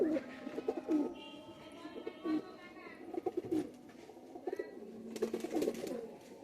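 Band-necked pigeons coo in soft, low, repeated rolling bursts close by, with faint background chatter and rustling.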